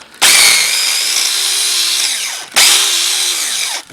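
Cordless battery chainsaw, a copy of a Stihl model, cutting wood: two loud close bursts of high whining motor and chain noise, each winding down as the cut ends, with no talk.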